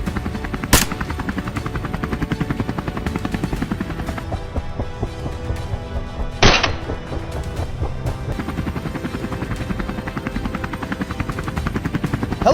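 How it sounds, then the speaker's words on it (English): Helicopter rotor drone holds steady and loud above a herd of wild boar, a continuous buzzing thrum with two sharp gunshot-like cracks near the start and middle, no talking. "At this moment, the sound of the helicopter sent the boars into"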